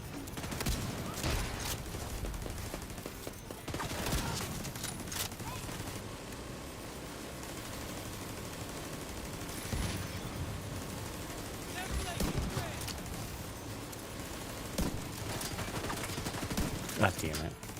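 Rapid bursts of gunfire in The Division 2 shooter game, including heavy TAC 50 sniper rifle shots and automatic fire, crackling loudly and continuously amid explosions and a voice talking over the action.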